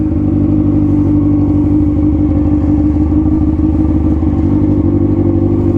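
A Honda CBR motorcycle being rolled back and forth, heard as a loud, unbroken low mechanical drone with a faint clattering texture, close and steady throughout with no voices.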